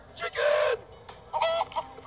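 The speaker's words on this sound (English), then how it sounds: "Chicken!" Chicken clucking in the video game Minecraft Story Mode, two short bursts of loud, close squawking clucks separated by a brief pause, with no talking.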